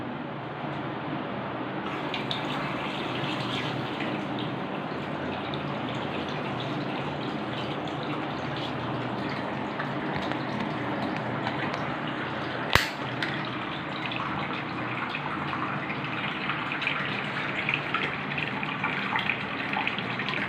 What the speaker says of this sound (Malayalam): ഇനി ആ ടാപ്പ് തുറക്കണം.